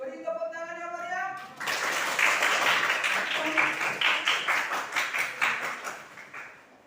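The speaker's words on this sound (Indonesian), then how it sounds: "Silakan kelompok 1 maju ke depan. Beri tepuk tangan ya Maria." A classroom group applauds as the first student group comes to the front, a burst of many hands clapping that swells after a short spoken prompt and continues steadily for several seconds before tapering off.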